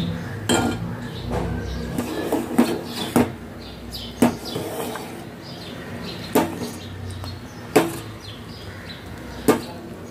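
A custard-powder mixture cooks in a pan and is stirred continuously with a spoon, giving irregular, close metallic knocks and clinks against the pan over a soft background hiss.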